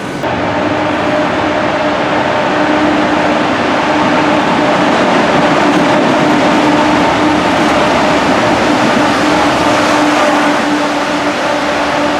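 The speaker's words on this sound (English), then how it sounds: "going to get this Class 68 passing through" A Class 68 diesel locomotive passes through a station in Greater Manchester with a loud, sustained engine drone and rumbling wheels. A steady tone holds above the roar the whole time, with no voices.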